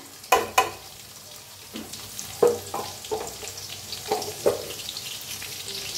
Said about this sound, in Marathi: चांगलं गरम झालेलं आहे, त्याच्यात ओतूया घालूया मिरच्या बारीक करून घेतलेल्या।